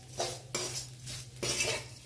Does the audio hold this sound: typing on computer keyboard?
no